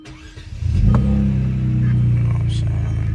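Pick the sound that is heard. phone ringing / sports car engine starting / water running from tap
sports car engine starting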